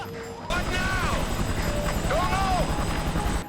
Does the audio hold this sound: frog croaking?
no